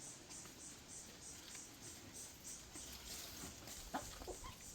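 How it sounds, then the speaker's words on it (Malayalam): Chickens cluck softly near a home vegetable garden, a faint, scattered run of short calls against a quiet outdoor hiss, with one slightly louder cluck toward the end. "ഇവിടേക്ക് നമ്മുടെ കോഴികളാണ്"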